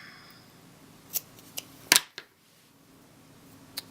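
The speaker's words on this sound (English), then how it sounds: "trim the ends a little bit." Scissors trimming the ends of a ribbon bow on a handmade card, a few quiet, sharp snips spaced apart with one louder cut near the middle, set against a near-silent room.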